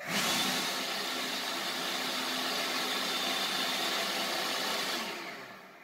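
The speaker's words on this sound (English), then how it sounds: "put the leaf blower down in here, Get it nestled down there in there as far as you can" A leaf blower pushed down into a home air-conditioning duct, running with a loud, continuous breathy whoosh and whine that holds steady for several seconds before cutting off near the end.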